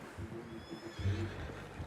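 A horse neighs in Red Dead Redemption 2, a short whinny followed by lower snorting sounds, fairly quiet and heard without speech.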